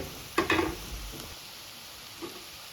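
Cluster beans fry with turmeric in a pan, a faint background sizzle broken by two short scraping stirs near the start and one softer stir later, with no voices.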